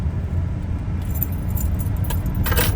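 A set of truck keys jangles with bright metallic clinks over steady low car engine rumble, strongest near the end of the short moment.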